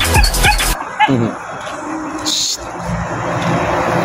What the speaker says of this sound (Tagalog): Tuwang-tuwa yung aso sa akin